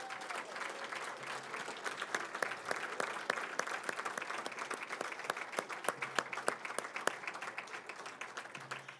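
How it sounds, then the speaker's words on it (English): A banquet crowd gives a sustained round of applause for honor recipients at a college honors event, dense and steady clapping with sharp individual claps standing out, no talking. "please join me with another round of applause to congratulate them for their success"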